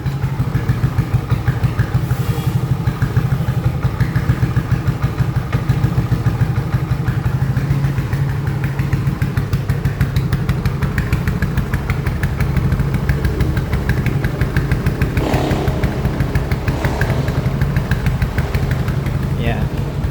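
A small scooter engine idles steadily up close after an endurance ride, a continuous low putter with light mechanical clatter, with a person talking over it at times.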